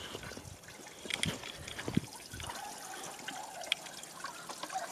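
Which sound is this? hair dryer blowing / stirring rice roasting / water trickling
water trickling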